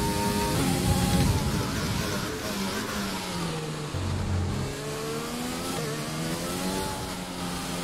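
An F1 race car engine from the F1 2020 video game screams continuously at high revs, the pitch climbing and dropping through gear changes, loud and close.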